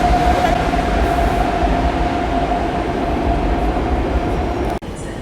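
IC Jeziorak intercity train pulling out of a station platform, a steady loud rumble of rolling wagons with a sustained tonal whine running throughout, close by and continuous until a brief cut near the end.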